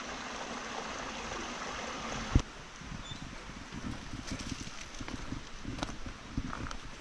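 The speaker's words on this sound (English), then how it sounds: "There we go, a mini waterfall." A small waterfall in woodland at a disused copper and arsenic mine in Devon, heard as a soft, steady trickle and splash at moderate distance, with brief rustles and a sharp knock partway through; no speech.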